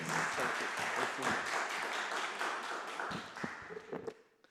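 An audience at a council health and social care scrutiny panel meeting claps steadily for about three seconds, then the applause thins to a few scattered claps and taps.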